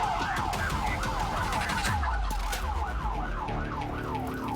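Police car sirens wailing in a loud, repeating rise-and-fall pattern throughout, with a deep engine rumble joining partway through, during a pursuit of a minivan with a flat tire throwing sparks.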